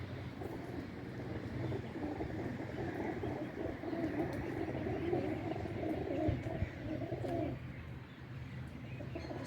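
Flock of some sixty racing pigeons cooing steadily inside a loft, a continuous murmur of overlapping coos and soft calls filling the space at close range, with no talk.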